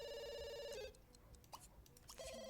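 A telephone rings in a video game, a loud electronic ringing tone that stops briefly and then starts again, with quiet game sounds in between.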